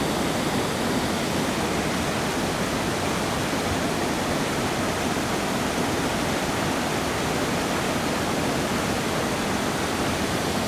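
Sabbaday Falls waterfall in New Hampshire roars as a steady, dense broadband rush of falling water that stays even and continuous throughout, with no other sounds standing out.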